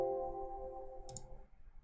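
A single faint mouse click on the OK button in Rhino software, a brief crisp tick that follows a low electronic hum fading out.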